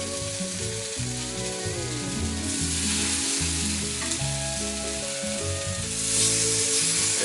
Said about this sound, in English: We're just going to drop the slabs of Spam into the Teflon skillet there.